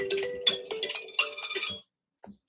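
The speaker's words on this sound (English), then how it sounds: "That was our cell phone." A cell phone rings with a bright electronic melody of repeated chiming notes for nearly two seconds, then falls silent apart from a brief faint clatter.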